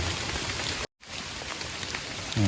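Steady rain pours down outdoors while mushrooms are being picked, a dense, even hiss of drops on surfaces that cuts out briefly near the start and then resumes, with no voices.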